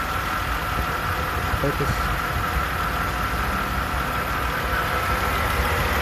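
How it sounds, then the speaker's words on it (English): Idling 1991 Mercedes 300CE W124 coupe with a 3-liter inline six, a steady low rumble running close and continuous throughout, with a person speaking briefly over it. "here you can see the motor's running just fine"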